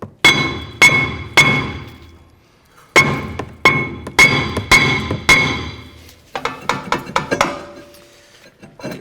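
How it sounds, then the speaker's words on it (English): Sharp metallic hammer strikes on the back of a brake rotor of a Chevy Equinox ring out in bursts, about a dozen hard clanging taps with short pauses, then a quicker run of lighter knocks. "you can use a hammer and you can tap the rotor from the back side"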